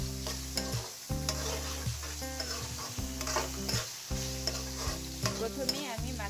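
A spice mix stirred and fried in a pan before fish heads go in, a loud close sizzle broken by repeated spatula strokes across the pan, with a low steady hum underneath.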